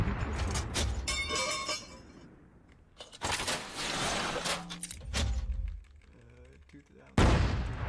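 A tank's main gun is fired in a mortar-style role, giving several loud, sharp booming blasts that decay into rumbling echoes, separated by stretches of people talking.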